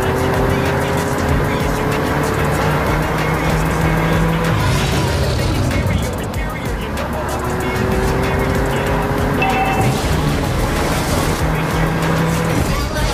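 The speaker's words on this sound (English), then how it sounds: "I'm stepping on the gas." A car in a video game accelerating hard, engine roaring loud and close with rising whines and tire squeals, continuous throughout, with game voices faintly under the noise.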